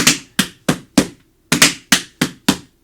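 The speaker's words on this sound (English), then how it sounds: "tap dancers crunch those first two flap sounds" Tap dance double cramp roll performed with the opening flap sounds rushed, giving eight crisp shoe taps in uneven groups where the first pair crowds together, close and clear with no voices.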